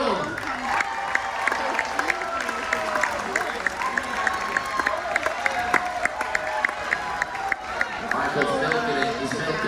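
A cruise ship audience applauds and cheers the food and beverage director aboard the Carnival Freedom during a transatlantic crossing. The clapping runs steady and dense, with whoops and crowd voices over a sustained tonal hum.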